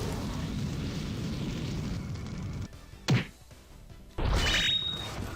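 A fire attack spell in the Grandia II video game: a long roaring burst, a lull broken by a short sharp whoosh, then a second loud flaring blast with a ringing edge.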